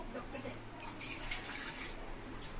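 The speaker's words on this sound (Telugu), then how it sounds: "కొంచెం వాటర్ పోసుకోవాలి" Water pours and splashes into a container for a couple of seconds, a soft steady gush with a faint voice murmuring in the background.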